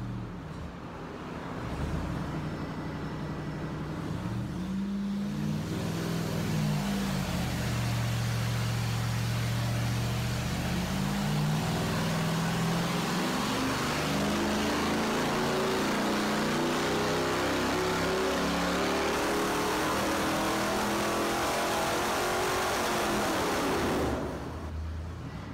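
An 8.1L V8 fitted with headers runs on a dyno: a loud, continuous engine roar that swells after a few seconds, holds with shifting low tones, then cuts off near the end.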